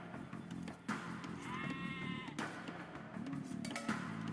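Sheep bleat in the video game Age of Empires 2, a single clear wavering bleat in the middle over busy game sounds and background noise.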